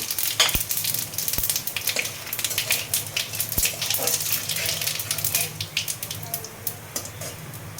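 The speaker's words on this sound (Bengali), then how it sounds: "হিং দিলাম তেজপাতা দুটো শুকনো লঙ্কা জিরে ফোড়ন" Asafoetida, two bay leaves, dried chillies and cumin crackle in hot oil for a raw-banana kofta curry: a steady, close sizzle studded with sharp pops and spits, with no talk over it.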